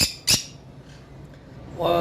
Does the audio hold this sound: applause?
no